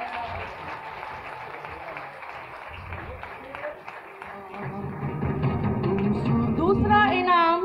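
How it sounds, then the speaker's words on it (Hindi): Audience applause at a national-level math competition prize ceremony in Sialkot, a steady dense clapping from a large crowd that swells louder toward the end, with voices and some musical tones mixed underneath. "मेरा ख्याल है इस सतह पर तो तालियां बजती ही रहनी चाहिए"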